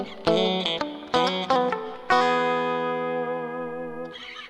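Electric guitar with an inverted-tuning mod plays short pentatonic licks: a few plucked note clusters, then a long ringing chord that sustains and decays, clean and loud.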